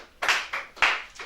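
A church congregation claps in acclaim of the Lord, with a few quick, close, sharp handclaps in an uneven rhythm and no voices.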